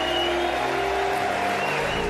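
Dense, steady applause from a large audience cheering students at a political rally, sustained at even loudness throughout with no pauses.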